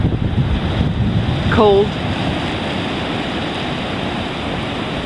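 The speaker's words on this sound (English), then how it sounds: "on the beach in Emerald Isle, North Carolina" Surf and steady wind on a beach at Emerald Isle, North Carolina, at the end of December, a continuous broadband wash with wind buffeting the microphone, and a brief spoken word partway through.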